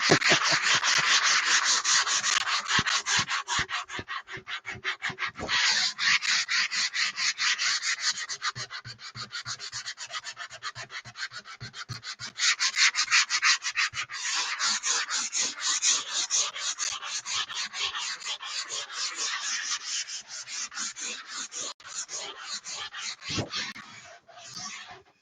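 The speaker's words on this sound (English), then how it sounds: "everybody needs to do a little hand sanding in their lives" Wood is sanded by hand in a workshop, with close, loud, rhythmic rasping strokes in long runs and brief pauses between them.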